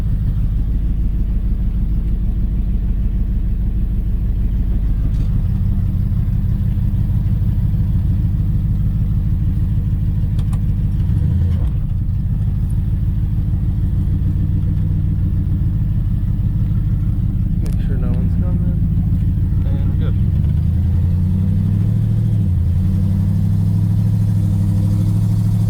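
A 1956 Dodge Regent with a column-shift manual transmission drives along, its engine a steady low rumble that swells and eases over about 26 seconds while a voice talks over it now and then.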